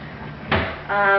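A craft room drawer holding markers slides open with a short scrape, followed by a brief rattle of its contents, close and fairly loud.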